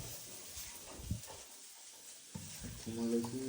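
Food fries in a pan during chicken roast preparation, giving a quiet, close sizzle with stirring scrapes, a brief near-silent gap in the middle, then louder frying resuming.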